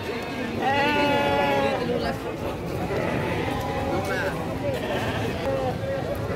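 Texel crossbreed sheep bleating on a farm, several wavering calls rising over one another, close and fairly loud, with people chatting underneath.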